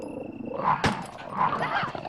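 Zombie dog from the Resident Evil video game growling and snarling through game audio, with a sharp hit midway and a low, rough roar building again afterward.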